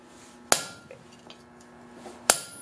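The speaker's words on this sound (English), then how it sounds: "and you hammer away into some fuller lines." Two sharp hammer blows on hot steel, spaced well apart, while forging fuller lines into a coal rake; each strike rings briefly with a metallic clang, close and loud over a quiet background.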